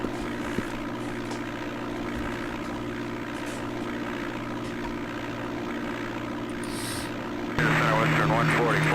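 A propeller aircraft in the DOS game Flight Simulator 5.1 at Sky Harbor Airport, a steady droning engine hum that grows louder and fuller toward the end, with voices throughout.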